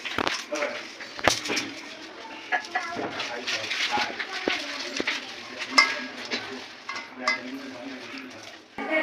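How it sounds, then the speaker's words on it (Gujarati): Boiled, peeled potatoes are mashed with a masher for dabeli filling, giving soft repeated squelching presses and light clicks against the pot, with talking over it. "આ મેશર છે એનાથી મેશ કરી નાખશું"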